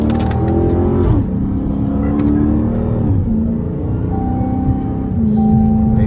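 A Dodge Charger Hellcat in Striker trim roars loudly and close, its engine revving up and down in sustained surging pitch sweeps as it slides through turns on city streets.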